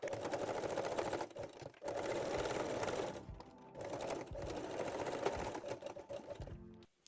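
A sewing machine runs straight-stitch backstitching along the seams of lace-back Brazilian panties, in steady whirring runs broken by two short pauses, close and loud.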